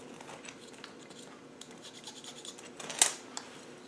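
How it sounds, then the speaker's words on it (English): A Sharpie marker scratches and rubs across Land Rover R380 gearbox parts in short, faint strokes, building to one sharper, louder scrape toward the end. "is put some markings on it with your little Sharpie"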